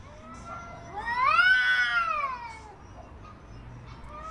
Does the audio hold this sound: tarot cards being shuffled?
no